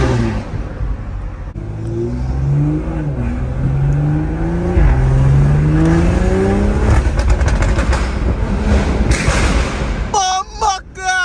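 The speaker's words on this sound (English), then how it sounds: "I'm doing a flyby right through this tunnel" BMW M340i exhaust roars during a flyby through a tunnel, rising in pitch as it revs hard and booms loudly off the walls, then drops away. A voice speaks at the end.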